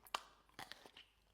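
Crunchy bites into a Kinder Bueno chocolate bar, a sharp crack followed by a few softer crunching chews, close and fairly quiet with no talk.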